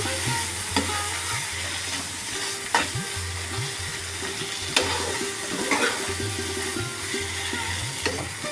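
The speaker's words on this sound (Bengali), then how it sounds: "এখন আমি চিংড়ি মাছটা দিয়ে দিলাম দিয়ে একটু নাড়িয়ে চাড়িয়ে নিচ্ছি" Prawns are stirred in hot oil in a frying pan for a Bengali poppy-seed and mustard prawn curry, with steady loud sizzling and periodic scraping of the spatula against the pan.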